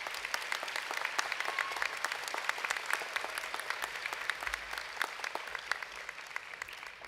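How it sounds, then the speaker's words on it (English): Audience at a medical school white coat ceremony applauds, a steady, fairly quiet patter of many hands with crisp separate claps throughout. "another round of applause for the whole Jonathan community"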